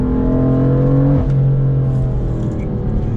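A Stage 2 BMW M4 running E85 fuel with 580 wheel horsepower accelerates hard in third gear, its engine note loud and close, climbing steadily in a continuous pull with a brief dip partway through.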